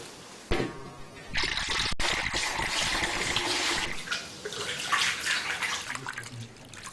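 Raw silk soaked and kneaded by hand in water for dyeing, giving close, loud sloshing and splashing that starts abruptly and continues with irregular swells.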